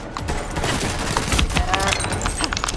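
Gunfire in the video game Borderlands 3 rattles in dense rapid bursts, loud and continuous across the whole stretch with sharp crackling shots layered over game noise.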